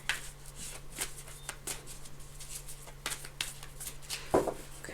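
Tarot cards are shuffled steadily by hand for several seconds, a soft, repeated papery flicking and sliding with an even rhythm over a low, constant hum.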